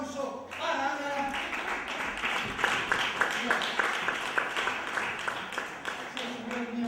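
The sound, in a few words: audience applause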